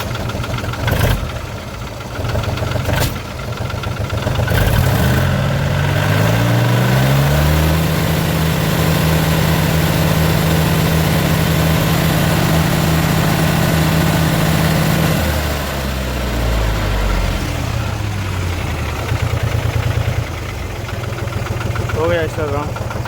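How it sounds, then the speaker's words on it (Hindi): Mahindra 275 tractor diesel engine with a fitted diesel pipe, revved up on the hand throttle from idle to a steady high pitch, held for several seconds, then dropping back to a loud, close rumbling idle. "आरपीएम देखते हैं, इसकी हाथ की रेस की आरपीएम कितनी जा रही है।"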